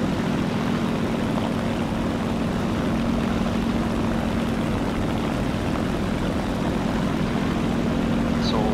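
A Seagull propeller plane drones steadily in War Thunder during a flight near the Taratupa volcano, its engine hum constant and fairly loud throughout with no break.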